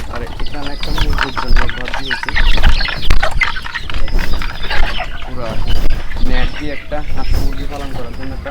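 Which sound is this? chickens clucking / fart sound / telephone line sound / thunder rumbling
chickens clucking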